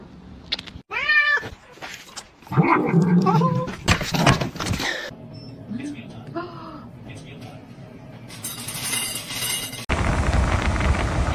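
A cat meowing and caterwauling in a house, several drawn-out, wavering cries mixed with clatter and background noise, fairly loud and close, with people talking in between.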